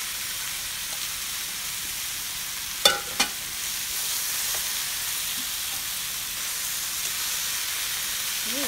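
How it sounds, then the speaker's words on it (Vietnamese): Vegetable noodles with carrot are tossed in a pan with the heat switched off, under a steady soft sizzle and hiss. Two quick scraping knocks of the utensil cut through near the middle. "Mình trộn lên là xong rồi."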